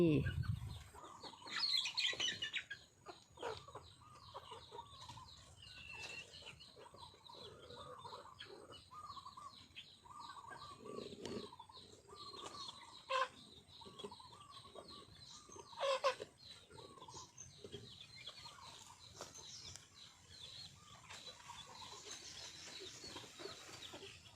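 Chickens cluck and a rooster calls steadily at a farmyard feeding, many short clucks scattered throughout at moderate distance, with occasional louder calls and wing flaps over quiet outdoor background.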